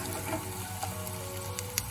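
Asparagus sautéing in nutty brown butter in a pan, giving a steady, close sizzle and faint crackle with small spits and clinks through two seconds, no talking.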